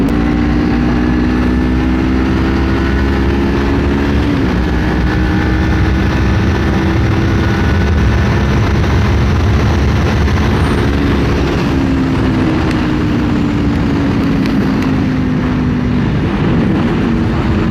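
A 2024 Kawasaki Ninja 500 motorcycle engine held near full throttle and climbing gradually, a loud, steady droning roar with slowly rising pitch and a brief dip midway, with wind noise and no talk.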